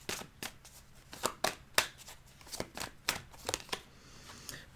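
Tarot cards are shuffled in a quiet room, a string of soft, crisp riffles and taps coming in irregular bursts, close and faint, with no talking.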